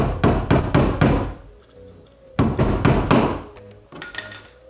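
A hammer drives a nail while building a retractable kayak anchor system, in two runs of four or five sharp, loud, ringing strikes close by, separated by a short pause.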